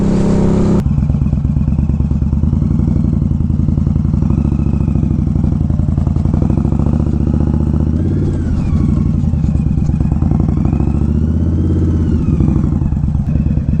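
An Indian Scout Bobber motorcycle fitted with Ohlins STX36 shocks runs off-road, its engine loud and close with a steady, throbbing drone, rattling over rough ground and swelling briefly as the throttle changes.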